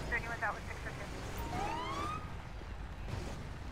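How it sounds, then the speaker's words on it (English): Ambulance siren in the video game GTA 5 with the LSPDFR police mod: a single rising wail sweeps up briefly midway, moderately distant, over low engine rumble and ambient game noise. "This ambulance is really out there."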